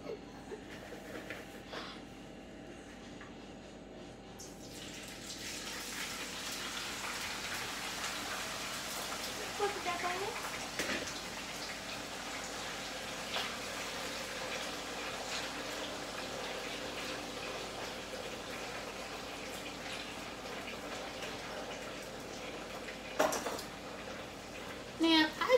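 Homemade fries hit hot grease and sizzle: a broad, steady hissing crackle that begins after a few quiet seconds and continues evenly, with brief bursts of louder spitting near the end and a voice talking at times.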